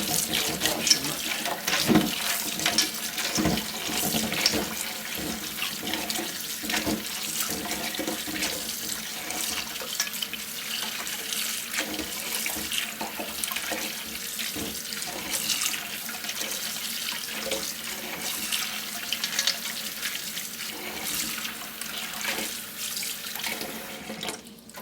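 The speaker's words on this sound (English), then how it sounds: "Rinse them a couple of times and then strain them." Tap water runs steadily into a kitchen sink while a cup of slimy pumpkin seeds is rinsed clean, a continuous close splashing rush that holds for the whole stretch with small shifts as the seeds are stirred under the stream.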